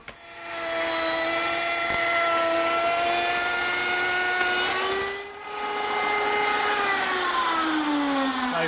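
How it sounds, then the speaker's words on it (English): A router table fitted with a 1/4-inch slot cutter whines steadily as it cuts a groove into the edge of wood stock, a loud continuous high-pitched tone that dips briefly mid-pass, then resumes and drops slightly in pitch near the end. "I'll use my router table to do that. I've set it up with a 1/4-inch slot cutter"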